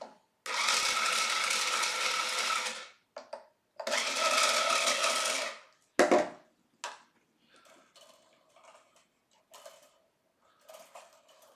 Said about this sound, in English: I may just take a little bit off and then I'll sand it in place